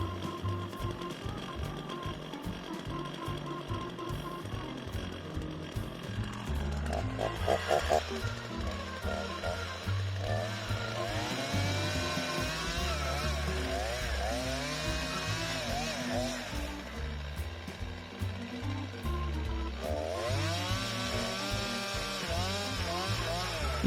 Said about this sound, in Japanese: 今回使うチェーンソーは新ダイワの E1045S という機種